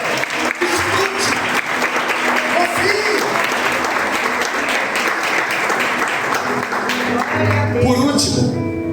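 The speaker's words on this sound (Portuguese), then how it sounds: "Aplauda mesmo, aplauda!" Church congregation applauds steadily and loudly throughout, with shouts and a preacher's voice mixed in over the clapping, rising near the end.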